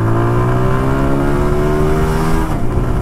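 A loud, close TVS Apache RTR 160 2V motorcycle engine revs hard toward its 10,000 rpm redline with a steady rising whine, then cuts off abruptly near the end as the throttle drops.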